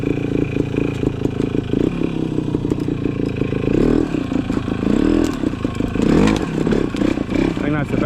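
Yamaha TY175 trials motorcycle picking its way through slippery snowy woods, engine loud and close with steady revs, throttle blips and clattering, while a rider talks over it.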